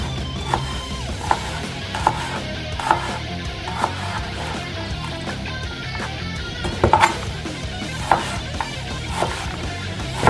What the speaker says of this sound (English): And just chop it up.